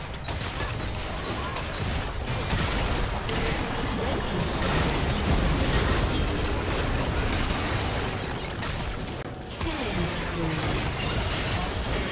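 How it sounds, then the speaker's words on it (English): A turret being destroyed in League of Legends during a top-lane Mundo versus Darius match brings a loud, dense wall of crashing, rumbling game effects that runs steadily for several seconds with a brief dip near the end. "Red team's turret has been destroyed."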